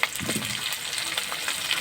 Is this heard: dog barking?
no